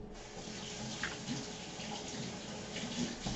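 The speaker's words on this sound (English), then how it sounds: "Rinse our fingers and add the mozzarella." Fingers rinsed under a running tap in a home kitchen while making lasagna: a steady, fairly quiet stream of water with light splashing throughout, no voices.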